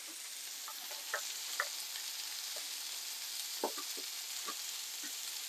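Sliced onions frying in a pan with leftover onion, a steady close hiss of sizzling broken by occasional soft pops and light scrapes of stirring, with no voices.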